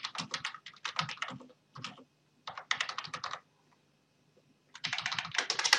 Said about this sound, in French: je vais commencer à taper mon courrier